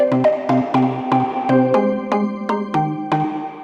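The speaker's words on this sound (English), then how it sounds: "you almost only hear the three notes ringing and being emphasized" A quick run of plucked guitar notes in a steady rhythm, each ringing out bright and reverberant into the next through an Eventide reverb, played alone with no talking.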